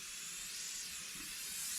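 Seam sealer sprayed onto the green bottom of an Ozark Trail 7-person tipi tent: a steady, close, continuous aerosol hiss lasting the whole moment, then cutting off.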